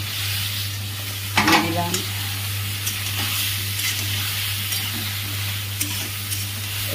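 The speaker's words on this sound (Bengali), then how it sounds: "এবার নাড়তে নাড়তে এবার পটলটা যে ভেজে রেখেছি, পটলগুলো দিয়ে দেবো।" Fried pointed gourd (potol) is stirred in a frying pan with a little water added, bringing a steady sizzle and a scraping stir partway through, with a brief spoken comment over it.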